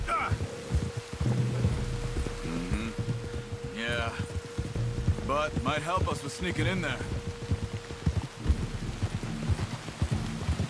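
Steady rain hiss in the video game Red Dead Redemption 2 runs under the whole stretch while characters talk over it, with a low constant hum in the background.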